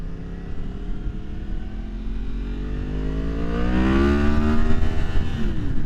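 A 2023 Yamaha MT-10 with the AIS removed pulls away on light throttle, its engine note rising steadily in pitch and loudness as the bike accelerates over several seconds, close and continuous with no talking.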